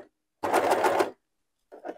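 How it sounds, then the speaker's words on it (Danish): An overlock serger stitches a seam on boxer-short fabric in one brief, fairly loud whirring burst of under a second, followed after a pause by a quieter, shorter rattle. "Så har overlockeren godt fat og tager fat i sømmen med det samme."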